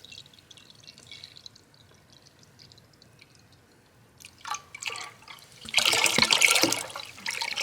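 Apple juice poured into a bowl of punch: a near-silent start gives way to a growing, splashing stream of liquid that turns loud and steady over the last few seconds, with no talking.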